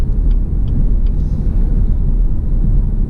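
A 2017 Chevy Camaro 2.0T four-cylinder engine drones loudly and steadily from inside the cabin as the driver shifts from second to fifth gear, a constant low rumble with no talk.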